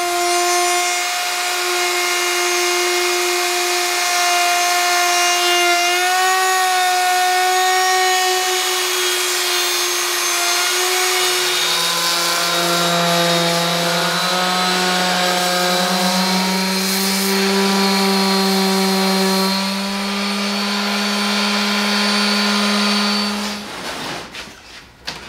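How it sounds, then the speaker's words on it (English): Router cutting a roundover along the edge of a reclaimed wood outdoor dining table foot: a loud, steady high-pitched motor whine that dips in pitch as the bit bites into the wood, then spins down at the end. "route a roundover around the perimeter of the foot"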